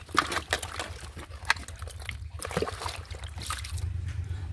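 Taro greens are washed leaf by leaf in water, making close splashes, sloshes and trickling drips in irregular bursts, with brief pauses between handfuls and no speech.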